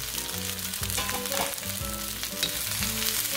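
Mushrooms and green pepper with vegetables stir-fry in a hot pan, loud steady sizzling with repeated scraping stirs and clatters close up, no talk.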